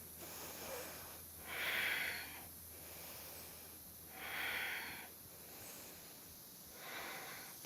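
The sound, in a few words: slow deep breathing during yoga flow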